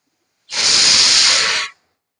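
A single loud burst of hissing steam from a pressure cooker whistle lasts about a second, then cuts off into silence.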